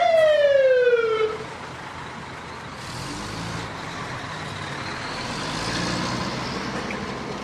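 A wailing fire truck siren sweeps downward loudly at the start and cuts off, leaving a low rumble of traffic and road noise for the rest.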